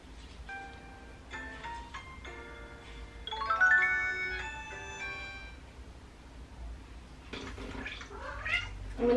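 A pet cat meows indoors in a few close, drawn-out tonal calls rising and falling in pitch, with short pauses between them and no talking.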